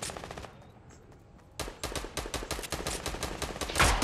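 Automatic gunfire in Fortnite, a brief burst at the start, a short lull, then a long, rapid, steady run of loud shots continuing to the end.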